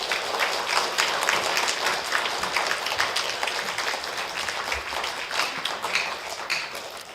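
An audience claps steadily in a church hall, dense applause welcoming a pastor to the front for a Wednesday evening revival meeting, sustained and fairly loud from start to finish without talk.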